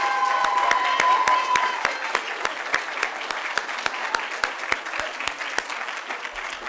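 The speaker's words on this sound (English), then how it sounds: "One more loud round of applause for all of our participants tonight." Audience clapping at an oratorical contest for all the participants, dense and loud at the start and then thinning into scattered, distinct individual claps, with faint voices mixed in.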